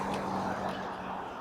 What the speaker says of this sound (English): Cars going by.